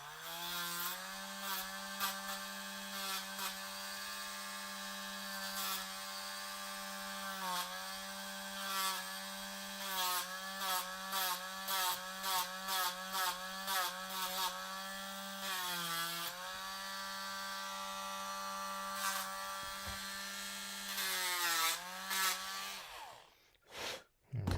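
A rotary tool fitted with a sanding bit smooths down a fitting's elbow piece, whining continuously for over twenty seconds. Its pitch dips and surges in rapid pulses as pressure varies, ending with a brief clatter.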